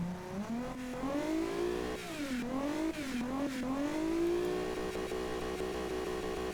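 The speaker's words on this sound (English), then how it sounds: "We'll see if the sort of the car sounds any better now" A drift car engine in the car company tycoon game Automation revs and climbs in pitch, dips between gear changes, then holds a loud, sustained high whine, close and alone.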